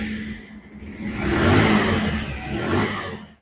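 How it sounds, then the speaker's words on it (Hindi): Bajaj Pulsar BS6 125cc motorcycle with a faulty ECM, running on a fitted carburettor, revs up from a low idle into a sustained mid-pitched engine roar, then drops back before rising again and cutting off abruptly at the end. "एक कार्बोरेटर लगाने के बाद ही बाइक स्टार्ट हुआ है"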